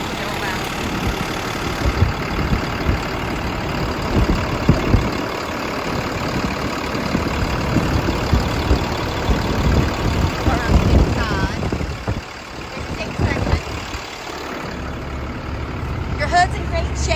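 A Cummins diesel in a 2009 Ford F-750 24-foot box truck idles steadily at moderate loudness, a low rumbling drone that runs the whole time with brief dips near the end.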